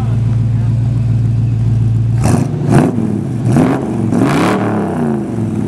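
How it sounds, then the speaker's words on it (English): A car fitted with dual exhaust idles with a low steady rumble, then gets revved in several short rising bursts, loud and close, with people talking over the revs. "Rev it up a little"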